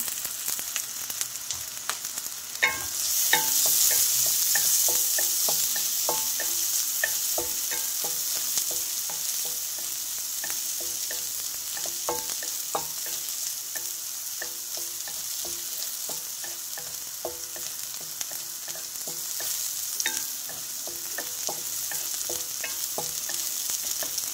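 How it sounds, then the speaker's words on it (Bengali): Onions and white cumin frying in oil in a pan for a ridge gourd dish, a loud continuous sizzle close up with frequent rhythmic scraping and clatter of a spatula stirring, no talking. "পেঁয়াজটা ভাজার সময় একটু সাদা জিরে দিয়ে দিব।"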